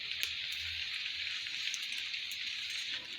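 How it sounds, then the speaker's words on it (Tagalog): Steady rain pattering on a surface, a dense even hiss throughout with occasional louder drops. "Yun, parang umuulan, oh."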